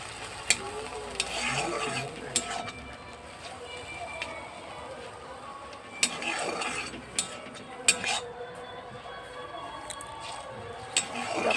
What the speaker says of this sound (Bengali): এবার হালকা হাতে নাড়াতে থাকবো, নাড়াচাড়া করতে করতে জল বেরিয়ে আসবো।